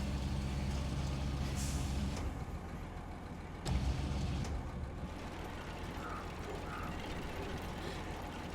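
Heavy truck engine in the video game SnowRunner, a steady low mechanical rumble with ratcheting, clanking gear sounds, a sharp clunk partway through, and a continuous drone the whole time, with no talk.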